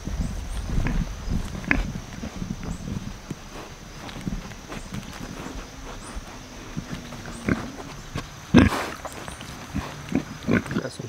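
Pigs on a farm grunt and snuffle quietly at close range, with scattered footsteps and shuffling around them and a few louder bursts of movement.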